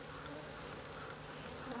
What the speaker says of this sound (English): If you guys ever wanted to see unhappy bees, you're doing it